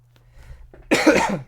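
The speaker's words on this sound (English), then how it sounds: "I have a little bit of a cold, so that's why I've been coughing" A person with a cold gives one harsh, close cough after a brief rustle and faint breath, loud and alone.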